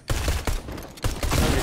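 Rapid automatic gunfire in the Fortnite video game, two loud, dense bursts separated by a brief gap, with no talk.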